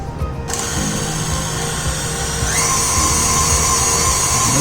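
Mixer grinder whirring in a brief quick mix of eggless strawberry tea cake ingredients, a steady close motor drone that steps up in pitch partway through.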